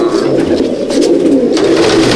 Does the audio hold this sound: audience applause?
no